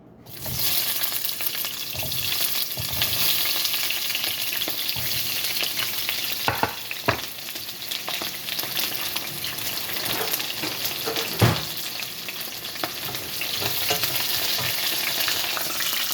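Onion fries in olive oil in a hot pan, giving a loud, constant sizzle close by, with intermittent scraping and clattering from stirring throughout and no voices.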